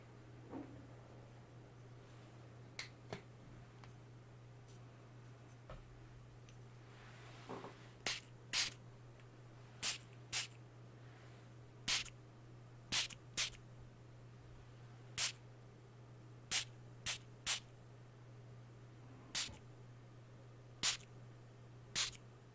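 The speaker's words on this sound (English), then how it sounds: "That's right. It's a spray bottle." A handheld spray bottle pumped in quick single bursts, about a dozen sharp hissing sprays spaced irregularly and some closely paired, close up against a quiet steady hum with no talking.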